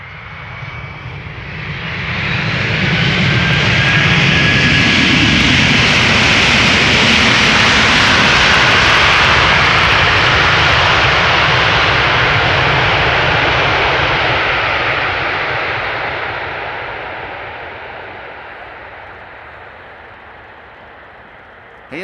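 A Delta Airlines jet arriving from Detroit lands at Amsterdam Schiphol Airport, its engine roar swelling loud and broad, holding for several seconds, then slowly fading as the plane rolls away.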